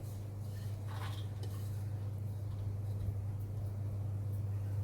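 Vietnamese noodle porridge is ladled from a pot with soft scraping and light clinks of metal, set against a steady low hum, and no talking.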